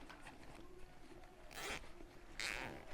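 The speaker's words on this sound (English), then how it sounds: "You want to use your zip tie." A plastic zip tie is ratcheted tight around a rose stem while assembling a horror-themed bouquet, giving two short, close zipping rasps about a second apart over quiet room tone.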